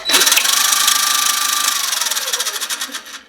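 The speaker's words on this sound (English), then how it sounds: "Another problem I've had is it's always been a noisy lathe. I'll just turn that on." A noisy mini lathe with a belt whose teeth are mostly shredded runs loud and close, a harsh high whine over a rapid rattling clatter that slows and fades toward the end.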